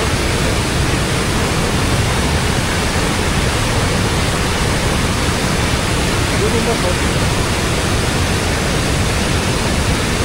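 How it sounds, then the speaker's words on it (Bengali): A large waterfall rushing down from a hill, heard as a loud, dense, unbroken roar of water that fills the whole stretch without pause. "প্রচন্ড গতিতে এখান থেকে পানি আসছে।"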